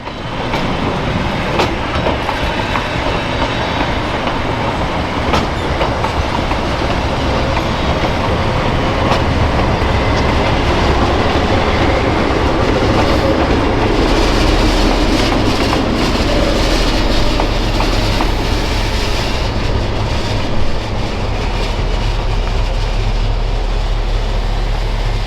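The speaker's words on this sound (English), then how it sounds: "As the 9911A passes our camera, we get a great view of the slanted nose of the locomotive" Nebraska Zephyr streamlined train led by an E5 locomotive, number 9911A, coasting past at a railway museum, a steady clickety-clack of wheels on rail with rumbling cars held at constant loudness throughout.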